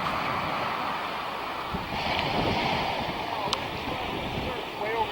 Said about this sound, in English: I can see the surf is huge.